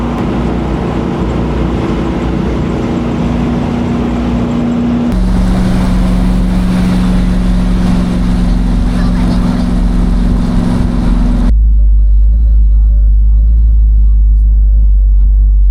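Car powered by a rebuilt big block engine cruising on an interstate at about 70 mph, a steady loud road and engine rumble throughout with a shift in tone partway and deeper low drone at the end.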